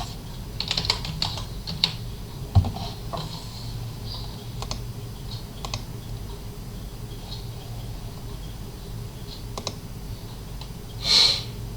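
Fingers tap out scattered keystrokes on a computer keyboard: sparse, crisp clicks at close range with uneven gaps, plus a brief denser burst near the end and no speech.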